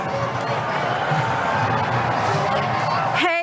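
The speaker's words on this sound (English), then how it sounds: "outside the White House, there is quite a crowd of celebrants" A crowd of celebrants gathered outside the White House fills the air with a continuous murmur of voices, scattered cheers and whoops, with a reporter talking over the noise.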